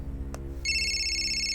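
A mobile phone starts ringing partway through, a bright steady electronic ringtone with a layered high tone that holds to the end over a low background hum, after a brief click.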